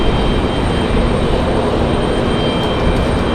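A 777 from Paris with GE90 engines flying past with its gear still up, a loud, steady, broadband jet roar close by that holds level throughout.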